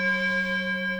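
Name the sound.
mindfulness bell ringing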